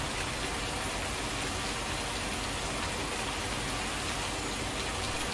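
Steady rain falling in Farming Simulator 19, a dense even hiss of drops on surfaces filling the whole stretch, close and continuous with no voices.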